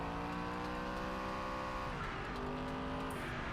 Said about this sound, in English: Yeah, single clutch gearbox. You can hear that shift is just not very fast.